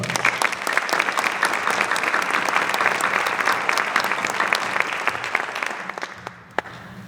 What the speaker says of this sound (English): let's give these incredible sponsors a round of applause as well